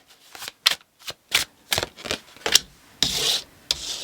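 Tarot cards shuffled by hand during a reading: a run of crisp, papery riffling bursts, about eight in four seconds, close and fairly loud, with no talking.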